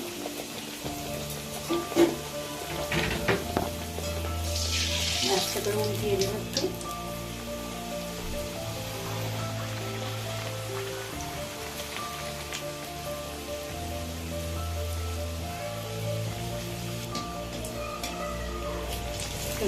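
Chana dal puris deep-frying in plenty of hot oil, a soft, steady bubbling hiss like light rain that runs on at low level for the whole stretch, with a brief spoken remark early on.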